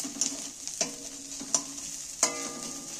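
Onion and garlic fry in oil with a soft continuous sizzle, while a utensil scrapes and clacks against the pan in a few sharp, irregular strokes as it is stirred close by.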